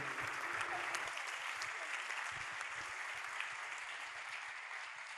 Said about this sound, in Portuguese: Uma salva de palmas para Maurício, o meu parceiro, o monstro.